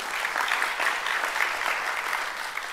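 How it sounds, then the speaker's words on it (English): A large audience of thousands applauds at a business conference keynote, dense steady clapping holding at an even level throughout, with no voices over it. "Round of applause."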